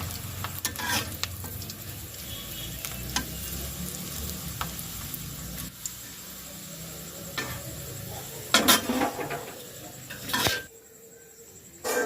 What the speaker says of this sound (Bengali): ভাজতেছে হচ্ছে আমাদের নীলবড়ি